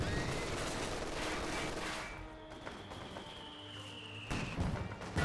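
Sustained dense gunfire from an M242 autocannon in Company of Heroes 2, loud and continuous, with a rising whine and some low rumbling near the end.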